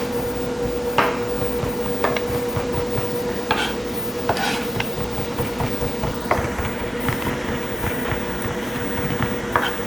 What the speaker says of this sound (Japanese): これぐらいしっかりこう細かくみじん切りにします